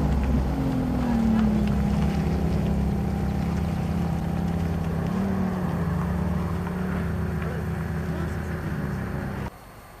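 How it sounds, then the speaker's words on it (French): A Ferrari California, a 599 GTB Fiorano and an F430 pass by at a Paris rally. A loud continuous engine roar holds throughout, with a pitch that slides downward as a car goes past, then cuts off abruptly near the end. "suivie d'une Ferrari California, une Ferrari 599 GTB Fiorano, et pour finir, une F430"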